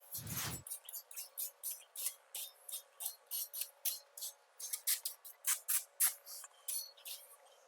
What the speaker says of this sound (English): spraying some brake cleaner on there, just to make sure we've got all the oils off